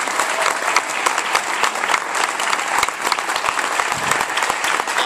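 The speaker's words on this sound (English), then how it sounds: "Can we just give a big round of applause to Eric and the team and the planning department?" A community meeting audience on urban agriculture applauds steadily for about five seconds. The clapping is dense, even and close, and there is no talk.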